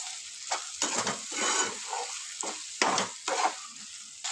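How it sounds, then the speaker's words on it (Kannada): Ground potato sandwich filling being stirred and fried in a pan: a close, soft sizzle broken by repeated scraping strokes of a spatula, irregular bursts a few times a second. "ಈ ಥರ ಕೈಯಾಡಿಸ್ಕೊಂತ ಫ್ರೈ ಮಾಡ್ಕೋಬೇಕು"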